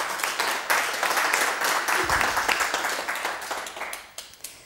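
A quiz show audience gives sustained applause for the female contestants at the close of the competition, with a dense, lively spread of clapping that swells and then slowly thins out.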